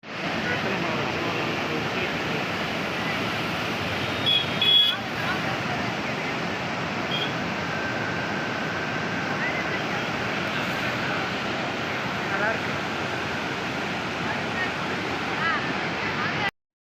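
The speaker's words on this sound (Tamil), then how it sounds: "அப்படியே நீங்களும் இந்த தண்ணி சவுண்டெல்லாம் கேளுங்கள்" Steady, loud roar of water rushing from the Mettur Dam spillway pours continuously without pause, a broad constant wash of sound close by.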